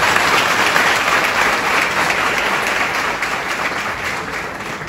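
A church congregation in Tapi, Gujarat applauds loudly, a dense, steady wash of many hands clapping together that holds for the whole stretch without a break.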